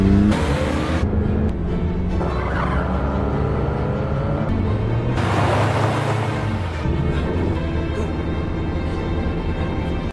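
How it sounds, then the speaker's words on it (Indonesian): A car engine revs hard and roars as the vehicle accelerates away from a border post in a film scene, loud and sustained with shifting pitch and bursts of louder noise. "Kim pun langsung menancap gas mobilnya untuk pergi meninggalkan pos perbatasan itu"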